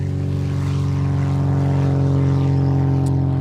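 A 1930s aerobatic propeller aircraft on takeoff gives a steady, loud engine drone with a strong propeller hum that holds constant throughout, close to the listener.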